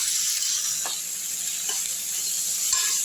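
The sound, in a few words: sautéing ginger garlic paste and tomato in a pan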